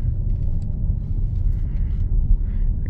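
A 2019 BMW M760i xDrive, a BMW 7 Series luxury sedan, pulls away under light throttle, giving a steady low engine and road rumble heard from inside the cabin with no talk over it.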